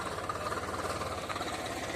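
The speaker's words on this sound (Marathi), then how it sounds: "हा ट्रॅक्टर आहे आपल्या पिंटू दादाचा." A tractor engine runs in a wheat field, a steady close mechanical chug and hum that continues without pause.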